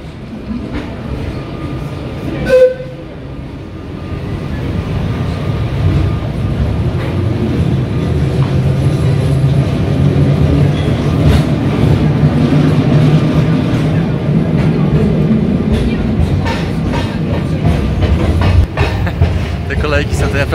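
The vintage Sóller tram on Mallorca rumbles through the town centre past a small church, a steady loud rolling and clattering of wheels on rails lasting throughout, with a brief sharp clank early on.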